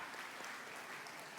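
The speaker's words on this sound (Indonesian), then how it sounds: "Beri tepuk tangan buat kita semua" Audience applause at a Parents' Day church gathering, a steady wash of clapping from a seated crowd that holds evenly through the short stretch, fairly quiet and distant, with no voices on top.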